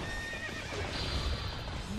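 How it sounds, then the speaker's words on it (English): Horses neighing and whinnying amid hoof clatter in the Dynasty Warriors 8 video game, game audio at moderate level with a continuous battlefield bed beneath the calls. "Get rid of all them horses as well."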